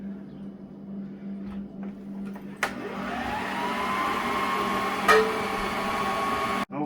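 An electric mixer whirs steadily as it blends grated radish with cream into a creamy mixture, a constant motor hum that rises slightly in pitch and continues alone without talk.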